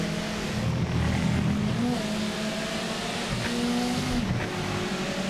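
A race car in a racing video game brakes with a steady, loud engine drone and gear changes, its tires squealing faintly under a constant stream of track noise.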